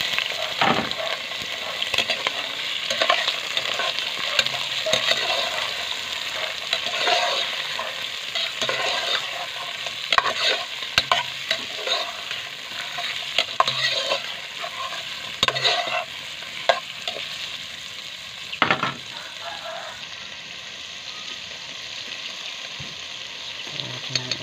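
Onion and garlic sautéing in a frying pan for a shrimp and squash dish, a steady loud sizzle of frying broken by repeated scraping and stirring clatter of a utensil against the pan, with no talking.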